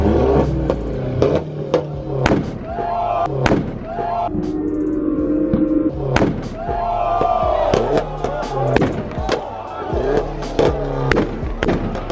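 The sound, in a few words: BMW M3 two-step launch control revving and popping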